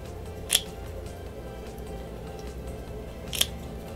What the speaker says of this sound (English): So these are the ends of the braid, and I'm going to cut them off.